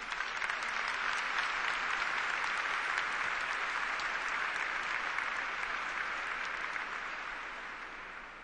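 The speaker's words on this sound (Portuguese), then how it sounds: "Vamos aplaudir essa palavra." Church congregation applauding during a Catholic Mass after a scripture reading: a steady, dense wash of many hands clapping at moderate distance, holding evenly before fading gently at the end.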